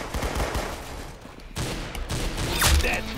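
Rapid bursts of gunfire ring out from a hard-to-run-with gun in the video game Arsenal, loud and close, in clustered volleys with brief pauses.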